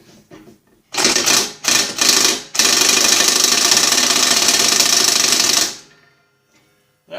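An impact wrench works a mower blade bolt off a Snapper rear-engine riding mower, loud and close: three short hammering bursts followed by a sustained rattling run of about three seconds that then stops.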